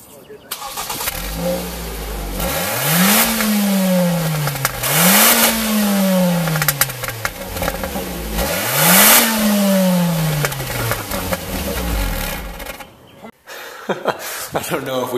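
A car with a reworked exhaust starts up and revs three times in a row, each rise swelling loud and falling back to a rough idle, with a person talking over it.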